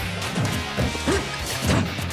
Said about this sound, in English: The Game & Watch up smash that big old dome.